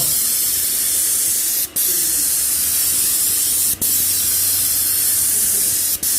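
A loud, steady hiss of a VEVOR 750W airless paint sprayer spraying, cut by three brief pauses where the trigger is released and pressed again.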